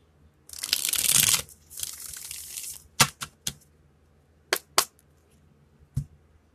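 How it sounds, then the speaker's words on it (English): Tarot cards being shuffled by hand: a rapid riffle of crisp card flutter, followed by a few separate sharp taps and snaps as the deck is squared, close and clear with no talking. "One more shuffle."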